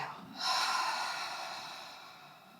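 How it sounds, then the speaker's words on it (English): A single slow yoga exhale, a soft breathy rush that starts just after a brief quiet moment and gradually fades, heard close with no talking. "Exhale."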